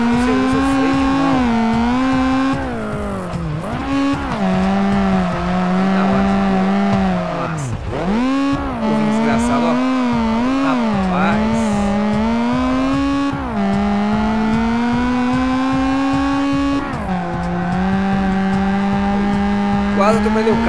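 A rally car's engine in the Xpand Rally Xtreme video game roars loudly and continuously, its revs climbing and dropping through repeated gear changes and easing off for corners, with occasional tire noise.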